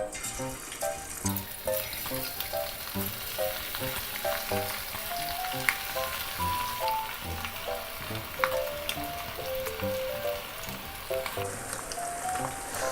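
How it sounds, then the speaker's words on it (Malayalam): Steady crackling sizzle of pork pieces frying in hot coconut oil, close by, with scattered pops and soft stirring scrapes, and music playing underneath. "എണ്ണ ചൂടായിട്ടുണ്ട് നമ്മളിനെ കുറേശ്ശെ വറുത്ത് കോരാൻ തുടങ്ങാം"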